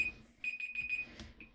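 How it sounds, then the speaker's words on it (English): A timer alarm rings in a Sims vampire game, a steady electronic beeping tone repeating in a few quick pulses, faint and alone. "that's the timer going off, which is unfortunate"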